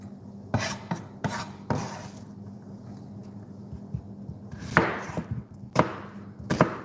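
Onions chopped on a cutting board with a knife, a handful of sharp chops and scraping strokes spaced irregularly against a quiet room background, no talking.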